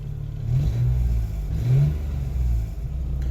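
A rebuilt Geo Metro car engine idles steadily up close, a loud low rumble that rises briefly as it is blipped and then settles, slightly high.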